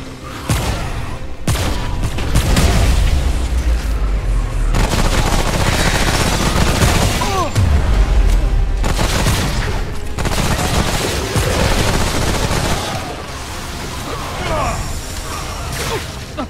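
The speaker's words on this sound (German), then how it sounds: "So, ich werde jetzt auch schießen." Gunfire in the co-op video game Remnant from the Ashes, dense and loud bursts of rapid shots with booms and whooshes running almost continuously, while players talk over it.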